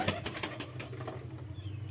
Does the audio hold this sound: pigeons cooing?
yes